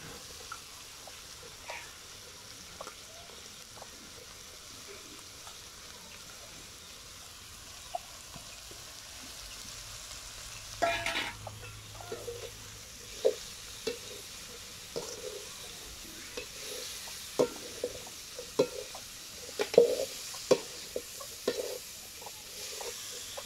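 Chopped cabbage stir-frying in a pan for cabbage poriyal, with a soft steady sizzle and scattered scraping and tapping of a spatula that grow busier in the second half, no voices.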